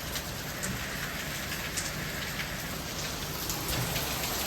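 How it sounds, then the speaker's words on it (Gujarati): Heavy rain pours down outdoors in a steady, dense hiss of drops hitting surfaces, loud and continuous without a break. "વરસાદ ફૂલ ચાલુ છે"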